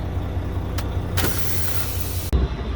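Air fed into a trailer's air ride suspension, a quiet thump, then a steady hiss of about a second, ending in a sharp clunk, heard close inside a vehicle over a low rumble.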